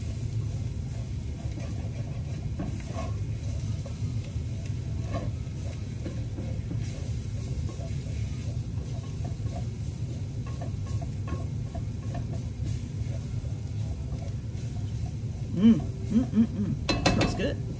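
Ground spices sizzling and being stirred in a hot pan, a steady low frying hiss with occasional scrapes and clinks of a utensil against the metal, a few louder knocks near the end.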